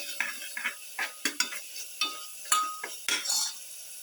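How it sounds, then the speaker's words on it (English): A spoon scrapes and clinks repeatedly against a pan while a spice mixture with coriander powder is stirred, quick irregular strokes over a light sizzle. "Thoroughly mix."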